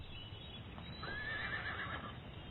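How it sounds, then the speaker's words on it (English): A golden palomino horse in the Graceland pasture gives a single faint whinny, a rising then wavering neigh lasting about a second over quiet background noise. "there should always be a golden palomino in the Graceland pasture"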